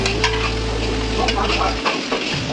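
Spices and raw rice are dry-roasted in a pan for sambar powder while being stirred continuously. A busy scraping and rustling runs throughout, with a few sharper clinks and scrapes toward the end once a low hum cuts out.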